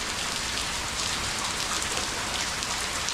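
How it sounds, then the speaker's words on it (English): Steady, even rain patters down continuously, a dense hiss of drops with no voices. "First time we've had rain in a while though."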